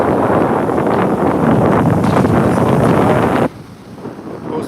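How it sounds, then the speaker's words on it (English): Strong wind blows at a beach at sunset and buffets the microphone with loud, steady roaring rumble for several seconds, then drops abruptly to a quieter gusting hiss. "A little windy out here"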